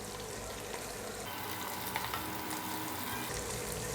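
Paneer and vegetables fry in oil in a pan, giving a continuous dense sizzle with light stirring clicks, steady and close throughout with no voices.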